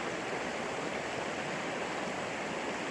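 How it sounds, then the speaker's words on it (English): A mountain creek flowing down from the mountains on a cold morning, a steady broadband rush of water, even and continuous, fairly close and alone. "you get a better view of the creek flowing down from the mountains there"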